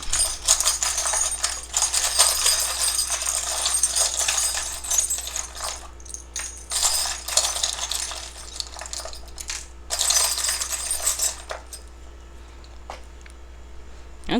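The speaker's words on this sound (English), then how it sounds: "I shuffle around in here and I don't look, and I just kind of keep shuffling" A deck of cards being shuffled by hand during a tarot-style card reading, a dense crisp riffling clatter in several bursts with short pauses between, close and fairly loud, no talking.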